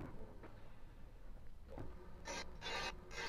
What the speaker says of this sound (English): I'm using a combination of a bench grinder and a Scotch-Brite 1-inch wheel mounted on my drill press